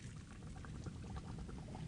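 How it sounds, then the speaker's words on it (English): Hot spaghetti and its boiling water pour into a colander with a continuous rushing, splashing gush that sounds low and muffled, with no talk over it. "we'll pour that in the colander."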